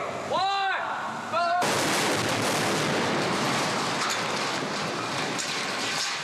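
Large staged explosion and pyrotechnic gunfire effects on an action film set, a sudden loud broadband blast that keeps roaring and crackling in a sustained wash of debris and rattling bursts after a brief tonal warning sound.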